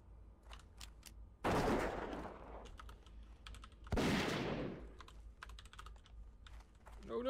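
Computer keys clack in quick, scattered bursts during a Classic World of Warcraft session, close and fairly quiet, broken twice by loud whooshing in-game blasts.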